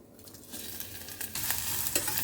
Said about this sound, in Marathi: कांदा ब्राउन करून घ्यायचा आहे आपल्याला।